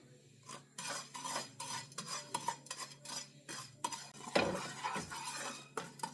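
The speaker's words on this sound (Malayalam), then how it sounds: "ഇനി ഇതിലേക്ക് സേമിയ ഇട്ട് സേമിയനെ ഒന്ന് ചൂടാക്കി എടുക്കുകയാണ്" Vermicelli is stirred and toasted in a pan with a utensil, giving repeated scraping and clinking strokes and a faint dry sizzle, close and fairly quiet.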